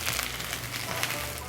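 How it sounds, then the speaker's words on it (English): Chicken browns in a frying pan, giving off a steady, soft crackling sizzle with fine pops. It is continuous and fairly quiet, with no talk. "y'all can hear that sizzle. That's what we want."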